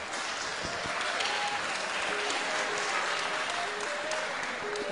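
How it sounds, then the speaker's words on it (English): An audience at a live televised show applauds a guest being welcomed on stage, a steady, even clapping that holds at the same level throughout, with no voices over it. "please show your appreciation by giving her a round of applause"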